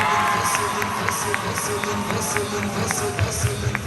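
A lively crowd cheering and shouting, with rhythmic clapping or stomping running underneath throughout.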